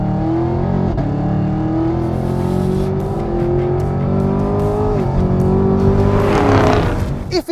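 A 2-litre turbocharged four-cylinder Chevrolet sports car engine hums steadily and climbs in pitch as it accelerates, easing briefly before revving higher again near the end.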